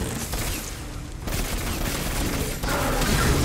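Rapid gunfire in the Destiny 2 shooter game, a dense fusillade of close, loud shots that pauses briefly and then resumes, with no talking.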